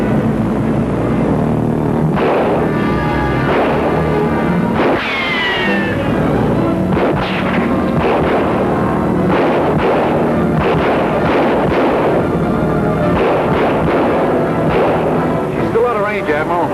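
Ships exchange gunfire in an old action-adventure radio drama at sea: loud booming shots and blasts over engine rumble, with voices speaking through the barrage.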